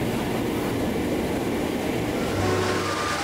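An Indonesian train runs steadily along the rails, a continuous broadband rumble with low rolling tones and no voices, its level holding even throughout.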